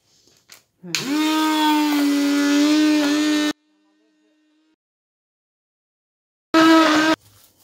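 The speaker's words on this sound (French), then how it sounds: "et on va passer tout ça au mixeur." A blender mixes vanilla pastry cream with softened butter for a strawberry tart, its motor whirring up in pitch into a loud steady run of a few seconds, then falling silent before one short burst.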